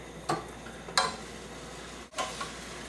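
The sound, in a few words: beef frying in a pan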